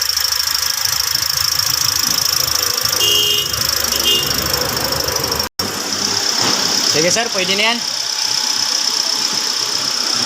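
A 2021 Toyota Avanza's warm engine idles steadily at a Shell service station in Kawit, Cavite during a check-up, a constant hum under nearby conversation with a brief dropout midway.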